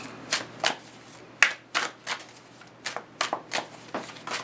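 Tarot cards shuffled and laid out on a table, a string of crisp, separate riffles and snaps at an irregular pace, close by and fairly quiet, with no talking.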